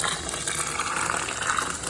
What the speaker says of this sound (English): Sparge water here.